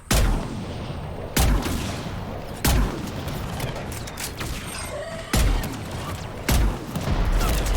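Gunfire in the Mass Effect 3 video game during a battle on Thessia, with loud booming shots and bursts repeating every second or so over a constant dense roar of combat.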